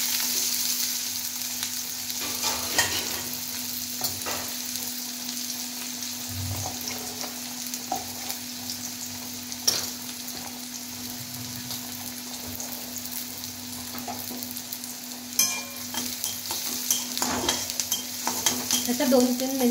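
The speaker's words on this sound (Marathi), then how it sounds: "आपण बारीक चिरलेला कांदा टाकूया।" Finely chopped onion fries in oil for a rustic dill-leaf bhaji, a continuous soft sizzle with an occasional clink or scrape of stirring, close and steady throughout.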